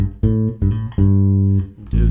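A blues bass riff in A on roots, octaves and flat sevenths: a few loud, low, clean notes in sequence, with one long sustained note in the middle before a final attack.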